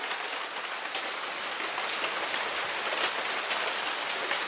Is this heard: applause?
no